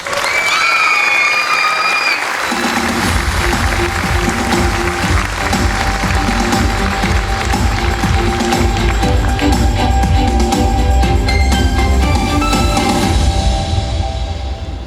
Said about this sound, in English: So please give an applause to the IAAPA Park Ballet.